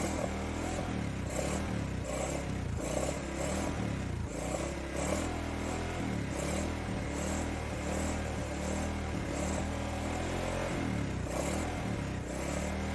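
A motorcycle engine that sat soaked in water for a week runs at idle, a close, steady mechanical chugging with a rhythmic pulsing beat and faint clatter, continuing evenly throughout with no talking.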